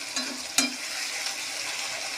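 Onions and tomato fry in a pan with a steady soft sizzle, broken by a sharp clack of a stirring utensil partway through, close and without any voices.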